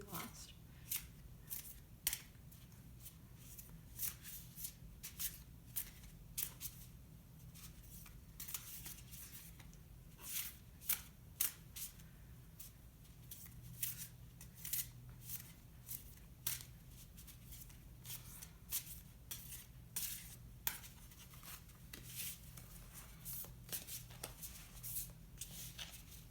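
A tarot deck is shuffled repeatedly with quick crisp riffles and snaps, close up and fairly quiet, in uneven bursts throughout.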